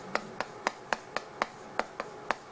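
Nine sharp, single hand claps land at a fairly even pace, close and crisp with short gaps between them and no talk.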